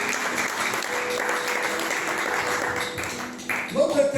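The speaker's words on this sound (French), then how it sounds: "Est-ce qu'on peut acclamer la parole du Seigneur?" A church congregation applauds during a French-language service, steady dense clapping with some voices mixed in, ending with a louder burst.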